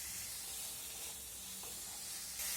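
Meat sizzles in a pan with chili powder and chopped green chilies, a steady close hiss of frying that brightens slightly at the end.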